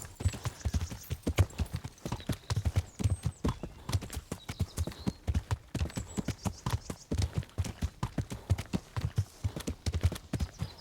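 Steady rhythmic hoofbeats of a horse at a trot or canter in the video game Kingdom Come: Deliverance, clip-clopping continuously and close, with faint snorting breaths.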